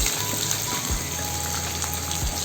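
Chopped onion and curry leaves sauté in a pan with a soft, even crackling sizzle, steady and close, a faint thump or two of the utensil underneath and no voices.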